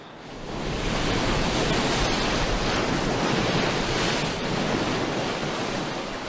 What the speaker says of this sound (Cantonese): 海水不斷拍打上岸